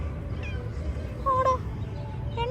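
A cat meows a few times in short, tonal calls, with one clearer cry near the middle and another at the end, over a steady low background rumble.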